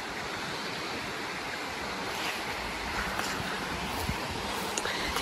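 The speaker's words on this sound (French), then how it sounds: "Maya, elle a dû entendre l'eau, non?" Water of the Artoise, a wild border river, rushing steadily and fairly close, a constant broadband flow with faint wind, no voices over it.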